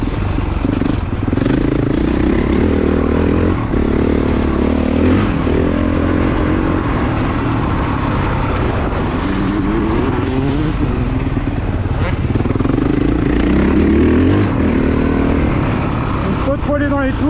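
A new 2022 Honda 450 CRF dirt bike runs during break-in, its engine close and loud with revs rising and falling repeatedly over the whole stretch, while someone talks over it.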